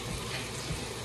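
Cold water runs into a pot steadily for about a second, a soft continuous pouring with no talking.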